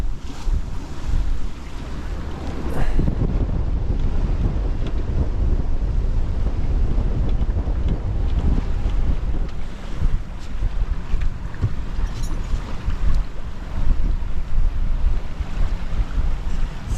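A sailboat running downwind through a rough sea crossing, with constant rushing water against the hull, heavy wind buffeting the microphone and waves breaking around it, a dense unbroken roar throughout.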